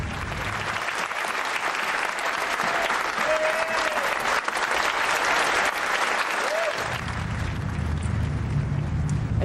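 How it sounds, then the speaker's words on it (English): MPs in the House of Commons break into sustained applause, a dense wash of clapping from a large crowd that swells and carries on steadily, with faint voices mixed in. "normally rounds of applause of any kind are completely against the rules within the House of Commons"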